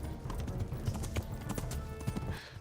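Horse hooves clip-clopping in the video game Kingdom Come Deliverance: a quick, even run of close hoof strikes, with a faint whinny-like sound in the mix.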